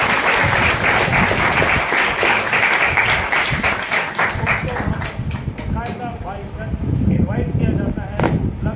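A lecture audience at a government polytechnic in Nagpur claps loudly to welcome a speaker, with dense, sustained applause that thins to scattered claps and then swells again.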